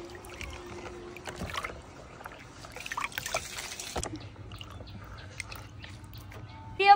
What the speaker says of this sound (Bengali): আমি এবার ভালোভাবে ধুয়ে নেব।